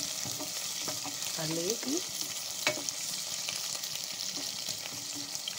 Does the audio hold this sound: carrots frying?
yes